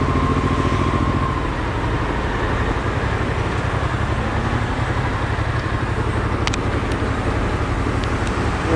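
Honda Transalp 650 motorcycle riding on a road near Marseille, its engine a steady loud drone with constant wind rush and no voices over it.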